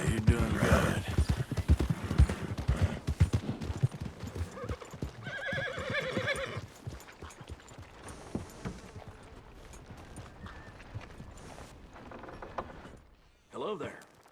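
A horse in Red Dead Redemption 2 clops along with rhythmic hoofbeats, then lets out a loud whinny midway, with mechanical clicks and a few spoken game lines over the top.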